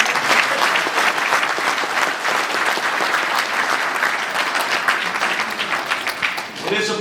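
An audience at a Masonic lodge installation of incoming officers applauds, with dense, steady clapping held at a constant level throughout and a voice briefly audible near the end.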